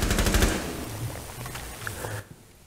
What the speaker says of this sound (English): I'm just gonna shoot out the floor below you.